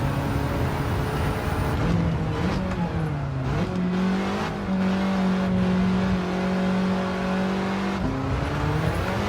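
A Volkswagen Golf engine in Gran Turismo 7 drones loud and steady during a track lap, its pitch dipping and rising as it shifts through gears and works through corners.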